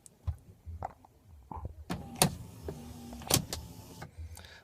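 The electric motor of the automatic seat belt arm extender in a BMW 3 Series E92 coupe gives short whirring runs broken by clicks and clunks of the mechanism, heard close up inside the car without voices.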